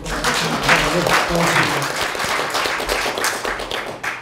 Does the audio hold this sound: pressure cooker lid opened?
no